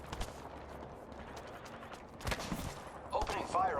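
Bursts of gunfire from the Apex Legends battle royale game, season 20, with a couple of louder volleys near the end over a steady background of game ambience and mechanical clatter.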